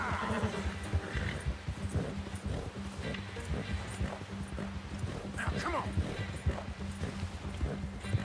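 Horse hooves clip-clop in Red Dead Redemption II, a steady galloping rhythm under game ambience, with a player voice talking over it.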